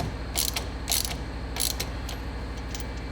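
A nut is run down onto the steering wheel shaft of a Yamaha YXZ UTV during a steering quickener install, producing several short bursts of close ratcheting clicks with brief pauses between them.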